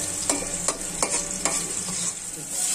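Garlic frying in oil in a pan while being stirred, a steady sizzle broken by several sharp clinks of the utensil against the pan, close up.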